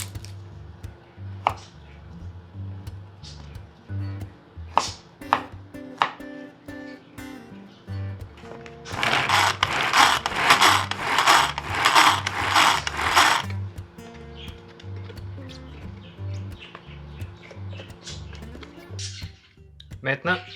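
A hand-pull chopper mincing a quartered garlic clove for tuna croquettes gives a burst of rapid ratcheting whirs lasting several seconds, amid scattered kitchen clicks, with a person speaking nearby.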